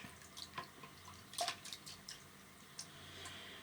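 Water drips and splashes faintly onto a shaving brush, with a few soft, irregular droplet sounds over a quiet room.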